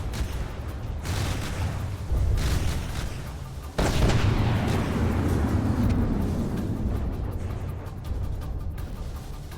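Ship broadside cannon fire in the naval video game From the Depths, heavy booming blasts layered over a constant rumbling roar, with a sharp loud salvo midway that decays into a long rolling wash of noise.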